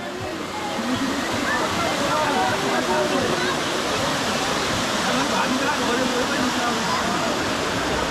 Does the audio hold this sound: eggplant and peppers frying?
no